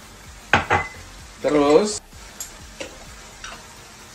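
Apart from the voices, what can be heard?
stirring spices into goat soup in a pot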